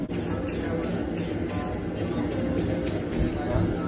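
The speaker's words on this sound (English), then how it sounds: "All right, I'm gonna spray clear coat now." A spray gun hisses steadily, its broad airy spray pulsing in short repeated bursts, close and fairly loud over a low background hum.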